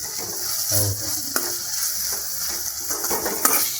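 Ginger garlic paste crackles and sizzles loudly in hot oil for a Kannada banana stem palya, a dense continuous frying hiss with a few brief stirring knocks, no voices.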